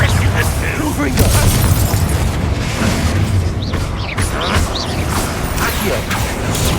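Blasting spell explosions and clashing combat effects from the video game Hogwarts Legacy, a dense continuous roar of booms and bursts with faint voices underneath.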